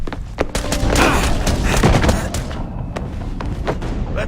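Gunfire in the Assassin's Creed 3 video game rings out among sharp booming reports and thuds over a dense, loud game soundtrack.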